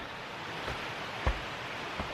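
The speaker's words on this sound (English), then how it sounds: "That was Lillian Brook right there I just passed." Mountain brook flowing beside a hiking trail in the Adirondacks near Dix Mountain, a steady, soft rushing hiss with a couple of faint thumps, no voices.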